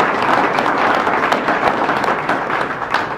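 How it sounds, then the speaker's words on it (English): Applause from the audience at a Senate candidate debate, a steady wash of many hands clapping for about three seconds that fades a little toward the end, with no talking over it. "Let's give these gentlemen all a round of applause."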